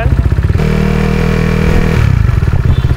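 Motorcycle held in first gear carrying a rider and a passenger, its mid-pitched engine droning steadily at high revs with a loud, close, slightly rough throb that surges briefly near the end.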